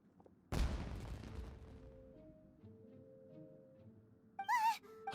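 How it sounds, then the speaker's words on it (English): Fireworks go off in a Genshin Impact cutscene: one sharp, loud blast followed by a long decaying crackle and rumble, then a brief bright burst near the end. "It sounded like fireworks."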